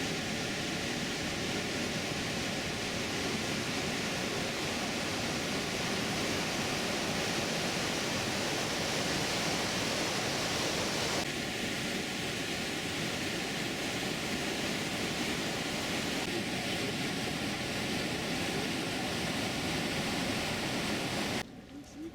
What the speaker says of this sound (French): Un pont suspendu enjambe la rivière et offre une vue spectaculaire sur les chutes assourdissantes.